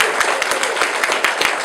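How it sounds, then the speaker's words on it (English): An audience at the 10th annual Sources of Knowledge Forum claps in a steady patter of distinct hand claps, fairly close and even throughout, with no talk over it. "I wonder if I can have a round of applause for the 10th effort"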